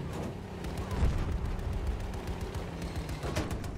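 Gunfire in Battlefield 2042, where a T14 Armata tank sits under attack from high and low ground, with dense rapid shots and low booms rolling continuously at mid distance.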